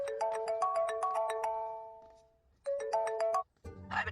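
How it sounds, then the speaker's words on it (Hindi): A phone rings with an incoming call, a bright melodic ringtone playing a repeating tune, cutting off, then starting a second burst before stopping again. "भैया, अम्मू की तरफ फोन आ रहा है।"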